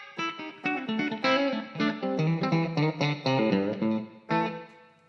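An electric guitar plays through a room-simulation reverb effect: a short melodic phrase of plucked notes and chords, each ringing out with roomy ambience. It is fairly clear and alone, with no talking.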